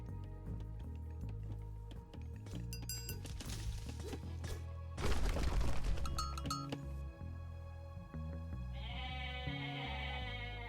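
Goats bleat several times in the Age of Mythology video game, mixed into a busy layer of clinking, thudding game effects and music, with no talking.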